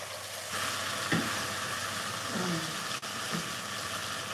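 Garlic and ginger sauté in a hot pan, giving a steady close sizzle and hiss with faint stirring clinks throughout.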